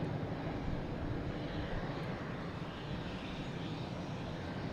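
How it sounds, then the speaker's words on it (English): A Boeing 737-800 airliner arriving at Boston Logan Airport on a flight from Dulles, heard as a steady, fairly loud broadband engine roar that holds evenly throughout with no talking. "The airline's coming in from Dulles, 737-800, flight 1709."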